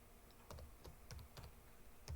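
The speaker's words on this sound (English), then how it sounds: "We're going to hit the keys." Keys tapped on a computer keyboard in a handful of separate clicks, quiet and close, with uneven gaps between the presses.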